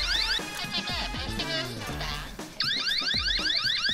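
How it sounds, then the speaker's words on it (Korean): A gas alarm that cuts power to a home boiler sounds its warning: loud, rapidly warbling electronic tones with sweeping repeated chirps, a brief break, then the fast warble resumes at full volume. "경고음과 함께 보일러의 전원이 자동으로 꺼진다?"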